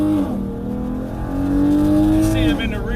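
Dodge Challenger V6 engine accelerating hard in a street race against a Mustang GT, a loud sustained engine note that climbs steadily in pitch, with a voice speaking over it.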